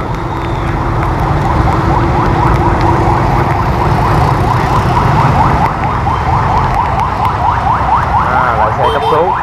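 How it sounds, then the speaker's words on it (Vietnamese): An ambulance siren wails loud and close on a rainy, busy Saigon street near a hospital, its rising and falling tone repeating over the steady wash of traffic and rain. "Khu tại của bên này là có bệnh viện 115 nên thành ra xe cấp cứu chạy ngang liên tục."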